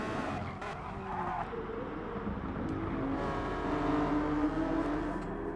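A race car skids through turn 1 in a street car racing game, its tires squealing steadily over a roaring engine as the back end slides, with the screech rising slightly toward the end.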